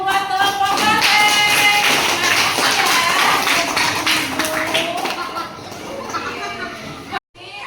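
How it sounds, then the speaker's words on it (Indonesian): A class of schoolchildren claps for a group of classmates, a busy patter of small hands with children's voices chattering over it, tailing off before a sharp knock and a short quiet break at the end. "Beri tepuk tangan buat kelompok Banteng."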